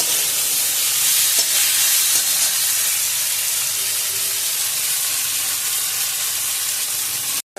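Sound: masala frying in a pan

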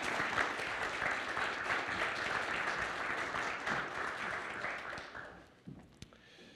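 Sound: audience applause welcoming a speaker

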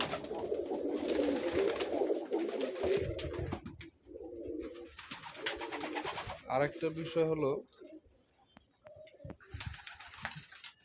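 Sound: Sirazi pigeons cooing in loft

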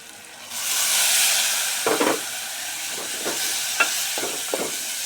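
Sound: soaked moong dal added to a frying pan

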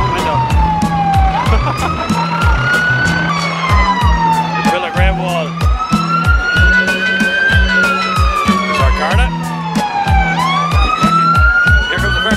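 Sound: ambulance siren

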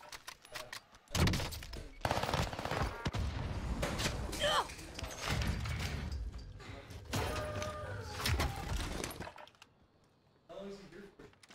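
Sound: gunfire in a shooter video game

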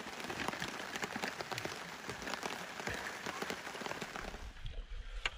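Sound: rain falling at remote lake camp

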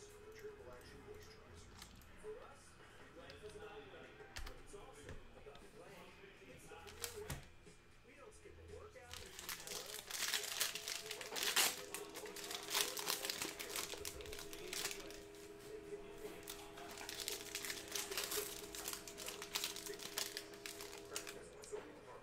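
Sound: ripping open a 2020 Panini Prizm football card pack

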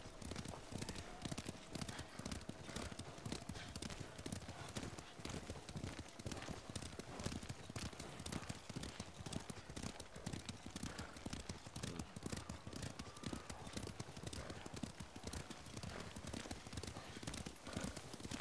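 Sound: horse hooves clip-clopping, from a video game

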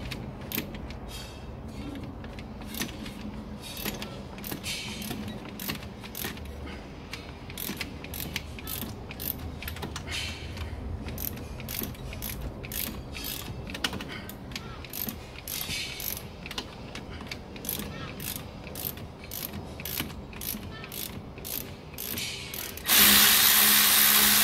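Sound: undoing Alfa Romeo 156 brake caliper pin with Allen key

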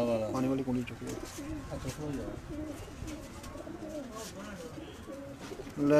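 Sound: golden pigeons cooing on a rooftop loft

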